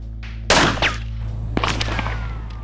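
A single loud gunshot, fired at a target with white paper behind it during a test of bullet drop, cracks out sharply, followed by a short echoing tail and a lingering low rumble.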